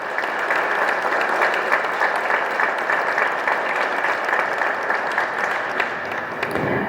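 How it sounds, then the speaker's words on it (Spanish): Sustained, dense audience applause fills a formal commemorative forum on the Mexican Revolution in Durango, steady and loud throughout with no one speaking. "por la cual pido un fuerte aplauso."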